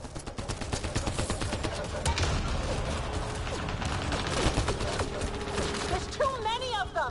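Rapid gunfire in the sci-fi shooter Mass Effect Andromeda, dense bursts and bangs firing continuously over loud game sound effects, with a voice talking over the action.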